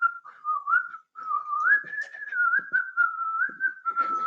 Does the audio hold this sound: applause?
no